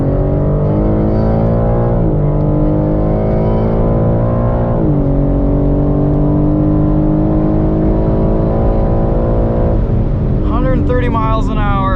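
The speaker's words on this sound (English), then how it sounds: "Letting it ride all the way out to red line." A 2021 BMW M3 Competition screams around the Gingerman track, its engine revving hard through rising gear pulls with brief dips at each shift, loud and close from inside the cabin.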